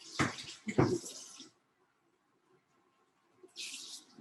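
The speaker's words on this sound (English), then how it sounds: "And I'm gonna add 1 cup of water." Water splashes and pours into a cooking mixture in short bursts, two sharp splashy pours early, a quiet gap, then a softer trickle near the end.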